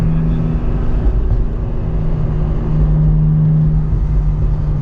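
A 2023 BMW M4 CSL driven on a race track, its engine droning loud and steady with a deep, constant rumble and a slight rise in pitch partway through, heard from inside the cabin with no talking.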